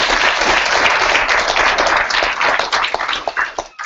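An audience claps at a team meeting and opportunity event, a loud, dense burst of applause that breaks into sparser individual claps as it fades.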